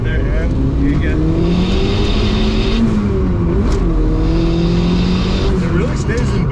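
A turbocharged 1989 Honda CRX with a V8 and a five-speed accelerates hard through gear shifts, its engine pitch climbing and dipping with each change, loud and close, while people talk over the roar.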